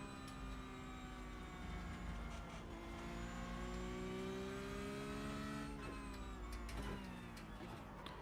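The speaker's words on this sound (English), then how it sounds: "The Cup car does make amazing noises towards the rev limit" A Cup race car engine winds up hard toward its rev limit, a loud sustained high-pitched howl with rising harmonics, shifting pitch around the middle of the stretch, with faint other cars present.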